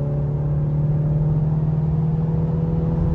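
A MINI's B48 2-liter four-cylinder engine pulls hard at full throttle toward 4,000 RPM from about 60 mph, a steady, loud droning hum with a strong low tone heard from inside the car.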